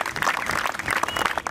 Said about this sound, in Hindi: एक बार जोरदार तालियां हो जाए इनके।